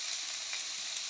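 Vegetable upma sizzling in a hot pan as salt, turmeric and spices go in, a steady close frying hiss with no talk over it.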